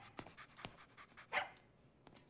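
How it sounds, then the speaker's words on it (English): A cartoon dog pants softly in quick, even breaths, faint and steady, with one brief brighter sound in the middle. "I don't think your dog would be an appropriate contribution to the time capsule."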